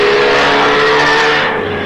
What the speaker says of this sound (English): A Grand Prix auto race for elderly people at a racetrack in Atlanta, Georgia.